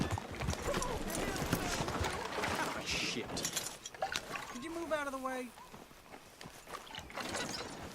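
Rhythmic clip-clop of galloping horse hooves in Red Dead Redemption 2, with a person talking over them and a few mechanical tones in the middle.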